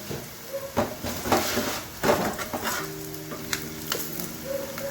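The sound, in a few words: onions frying in a pan for saag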